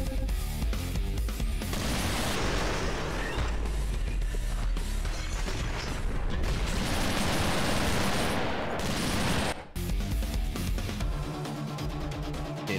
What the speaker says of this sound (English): He has two auto shotguns!